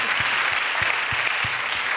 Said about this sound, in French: applaudissez pour les gens qui étaient là